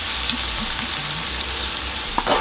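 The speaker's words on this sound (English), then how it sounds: "The reason why we're doing this on low is we just wanna lightly heat up our pesto sauce" Pesto sauce and olive oil warming gently on low heat in a pan, giving a soft steady sizzle with a few faint stirring clicks, alone without voices.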